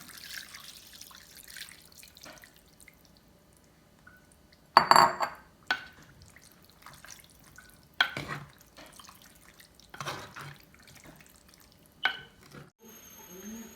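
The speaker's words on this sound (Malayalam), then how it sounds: "ഇനി ഈ 2-ാം പാൽ ഒഴിച്ചാണ് നമ്മൾ വേവിക്കുന്നത്. അപ്പോൾ നമ്മളത് ഒഴിച്ച് ഒന്ന് മിക്സ് ചെയ്യാണ്." Second coconut milk is poured into a chicken curry and stirred, giving quiet, scattered spoon clinks and soft liquid drips and splashes against a near-silent kitchen, with no talking.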